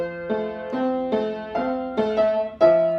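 Beethoven's Für Elise played slowly on piano, a handful of separate notes and chords struck one after another in an unhurried rhythm, clear and close with no voice present.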